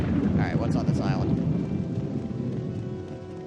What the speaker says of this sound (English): the rain's letting up a little bit